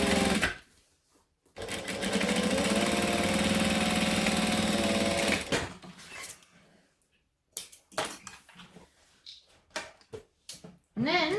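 Sewing machine topstitching along the fabric edge of a bag beside vinyl, a loud continuous motor drone lasting several seconds, then stopping into handling clatter and scattered clicks.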